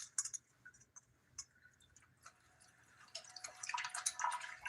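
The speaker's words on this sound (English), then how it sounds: "I'm just gonna dump it through the strainer like so" Water from soaked greens pours and drips through a kitchen strainer, starting with sparse taps and droplets and building into a louder, splashy trickle near the end, close and alone.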